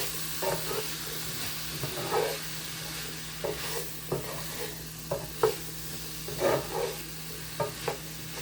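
Zucchini and onion with saffron sizzle steadily in a pan while a utensil stirs them, scraping and clacking in irregular bursts over a constant frying hiss.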